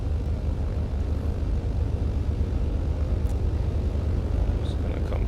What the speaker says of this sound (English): Gonna start killing the right engine.